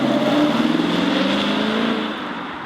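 A Lexus GS F V8 pulls hard uphill in Sport Plus mode, its engine note a steady, loud rising drone with a rough, throbbing edge that eases slightly toward the end.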